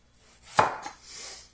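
A kitchen knife cuts an onion into rings on a board, one sharp chop standing out clearly, then a softer follow-up slice, close up in a quiet room.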